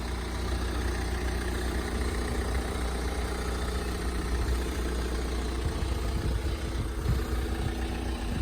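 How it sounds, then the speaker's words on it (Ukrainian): A 2013 Kia Sorento with a 2.2-litre diesel engine idles steadily, a close, even low hum and clatter with no voices over it. "Мотор працює ідеально."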